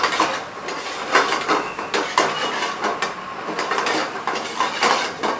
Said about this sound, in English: This is actually a kind of sauce which we are making for the lollipop, and then stirring the lollipop into it very well.